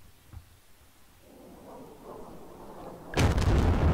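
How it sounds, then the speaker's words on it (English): Bombing of caves in the Soviet-Afghan War strategy game Squad Battles: a faint low thud early, a rising rumble, then a loud, sudden blast that booms and lingers to the end. "I want to bomb these caves, man."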